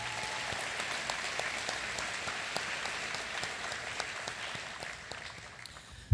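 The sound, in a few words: audience applause for sponsors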